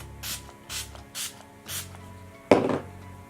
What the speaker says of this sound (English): To set things all into place, I'm using the Wet n Wild Photo Focus Fini Natural finishing spray.